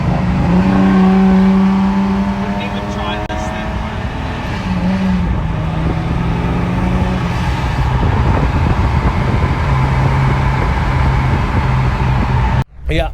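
A blue Toyota Supra with a 2JZ engine rolls by loudly, its engine note shifting in pitch as it passes close, with a sharp cut near the end.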